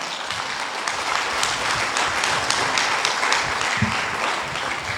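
A church congregation gives the Lord loud applause during a Spanish-language sermon, dense clapping filling the room continuously at an even level, with a brief low voice faintly underneath.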